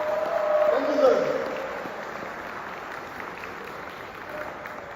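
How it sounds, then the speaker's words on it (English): An audience applauds a guest at a token company presentation, with a broad wash of clapping swelling early and then thinning into a low, steady patter. "Stand up and give him a round of applause, please."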